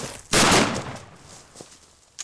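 A single loud rifle shot cracks close by during a javelina hunt in the Arizona desert, its blast decaying over about a second, followed by faint footsteps and small knocks.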